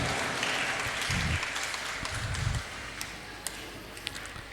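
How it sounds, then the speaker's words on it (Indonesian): A crowd at a regional Muhammadiyah assembly in Pamekasan, Indonesia applauds in scattered bursts of clapping, fading after a few seconds into quieter room noise with a few isolated taps. "Mohon tepuk tangannya"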